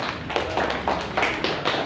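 Applause in a classroom, a short burst of hand clapping with uneven taps from a group, fairly close and loud, carrying on steadily for under two seconds with no talk over it.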